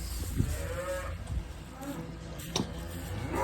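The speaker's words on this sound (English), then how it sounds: "cows are all in the barn because it just was raining" Cattle mooing inside a barn just after rain, several low moos rising through a busy background of shuffling and farm noise at moderate distance.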